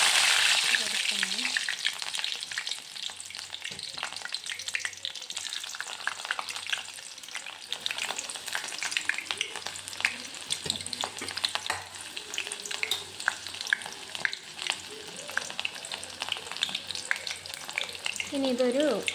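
Small shallots fry in hot oil in a pan for a chicken curry, a steady, close crackling sizzle with scraping stir strokes running continuously, and occasional quiet speech underneath.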